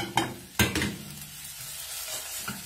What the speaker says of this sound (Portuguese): Vou colocar a cebolinha salsinha também pra dourar.